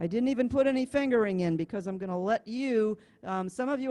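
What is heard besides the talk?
No everyday noise stands out behind the speech.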